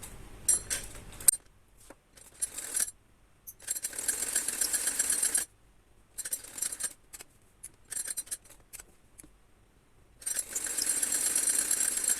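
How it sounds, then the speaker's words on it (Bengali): Sewing machine running in bursts while a fabric strip is stitched onto a child's top, with a fast mechanical chatter that starts and stops several times and quiet pauses between runs. "সোজা দিকে আমি পট্টির কাপড়টা রাখবো, রেখে তারপর সেলাই দিয়ে নিব"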